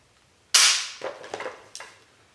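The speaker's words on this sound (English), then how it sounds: "take the safety off and dry fire." A MarColMar CETME L rifle being dry fired: one sharp, loud metallic snap of the hammer falling, followed by a few quieter clicks and rattles of the action, close by, with no talking.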